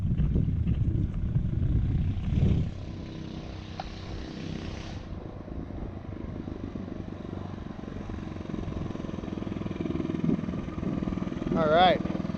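A Predator 301 engine powers a Coleman BT200x minibike on a top-speed run. It gives a steady, loud, continuous drone throughout, as heard from a following car, with a brief higher whine near the end.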